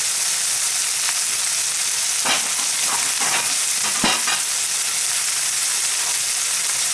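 Food sizzles steadily in a hot wok, with a few scraping, stirring strokes breaking through the constant hiss.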